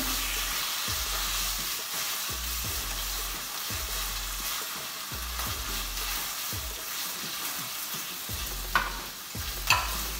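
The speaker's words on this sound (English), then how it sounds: "You don't want the bacon to cook too much because it's going to cook like later on." Bacon sizzles steadily in a hot pan, a dense continuous frying hiss with repeated soft scraping strokes of stirring and a couple of sharper clinks near the end; no voices.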